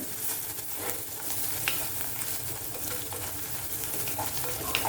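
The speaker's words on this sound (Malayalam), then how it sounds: "ഈ കുറച്ച് വെച്ചിട്ട് അതിലേക്ക് സ്വല്പം മഞ്ഞൾപ്പൊടി ഇടാം. ഒന്ന് വഴറ്റാം." Turmeric powder is sautéed in hot oil in a pan over a lowered flame while making a spiny fish curry. A low, continuous sizzle carries faint stirring scrapes and small pops, with no voices.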